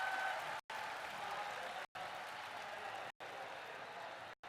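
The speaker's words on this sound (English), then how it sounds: "and the crowd goes wild for Twan" A large arena crowd at the Dota 2 Shanghai Major main event cheers and applauds in a loud, continuous roar, cut by brief silent gaps.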